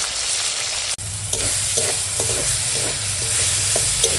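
Tomato fried in a pan with turmeric powder and salt, a steady close sizzle with a few light stirring scrapes and a brief break near the start, no voices.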